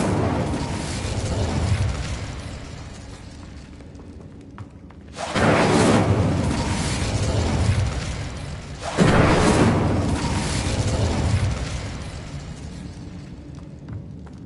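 The Incendio fire spell is cast in the video game Hogwarts Legacy, giving two loud, booming bursts of roaring flame that each swell and then fade over a few seconds, with a quieter rumble before them.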